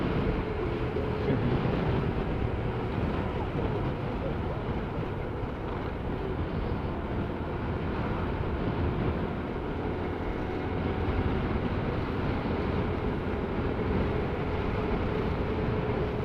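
A steady motorboat engine drone runs throughout with rushing wind and water noise, riding at speed on the sea near Mapanas, Northern Samar, Philippines.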